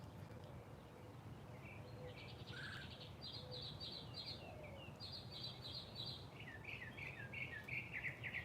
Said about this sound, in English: Ah, the birds are singing.